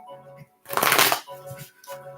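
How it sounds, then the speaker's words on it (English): A deck of cards is shuffled in one loud, crisp riffle burst in the middle, with softer card handling and faint background tones around it. "let me shuffle the cards good and see who's next"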